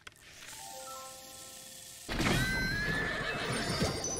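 Epona, a horse in a Zelda video game, first quiet then a loud whinny rising over game ambience and hoof clatter partway through, with no talk.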